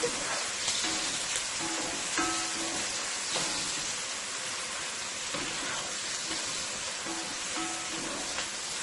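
Onions, garlic, chili and scallion sautéing on high heat in a hot pan, a soft continuous crackling sizzle with scattered pops, steady and close, no talking.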